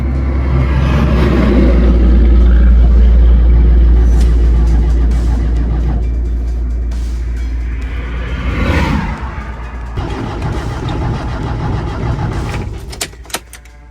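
Cars rushing past at speed on a desert highway, a loud close roar that swells and fades, then lighter passing whooshes and wind buffeting, with no talk.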